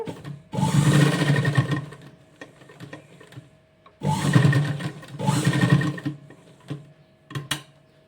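Two long bursts of a domestic sewing machine running a crosswise stitch on a double-layer lehenga skirt. Each burst is steady and close, separated by quieter handling, with a few short taps near the end.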